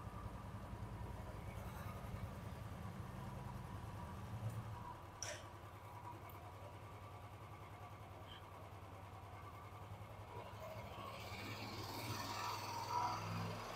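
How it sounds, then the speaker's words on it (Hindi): A Royal Enfield Classic 350 motorcycle engine idles and is revved gently in a steady, close mechanical drone, with a slight rise in intensity near the end and no talking. "अब थोड़ा थोड़ा सा इंजन मैं इसका रेव करता हूँ"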